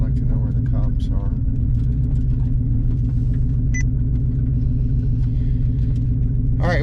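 A Ford Boss 302 with replacement side pipes rumbles steadily while driving with the windows up, a loud deep continuous engine drone with a few faint higher sounds on top.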